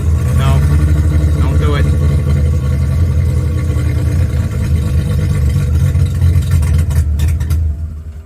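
A Mazda RX-7 with a 12A rotary engine running loud and close, a dense, steady low drone that eases off as the throttle is released, with occasional voices over it.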